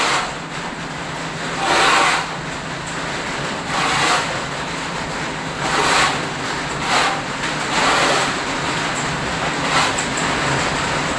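Heavy rain pours down steadily on an outdoor construction site, a dense broadband hiss with surging gusts that swell and ease every second or two, close and loud with no voices.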